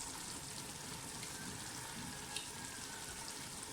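Aloo mongray curry fries steadily in oil, a dense continuous sizzle and crackle that stays even and close throughout, with no voices.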